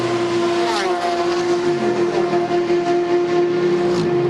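A race car at the Road America circuit in an IMSA Continental Tire Road Race Showcase accelerates out of pit lane onto the track. A loud, steady engine note rises in pitch and holds close throughout.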